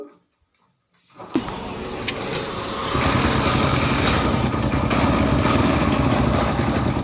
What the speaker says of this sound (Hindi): तो ये गाड़ी स्टार्ट हो जाती है और मिसिंग करने लगती है।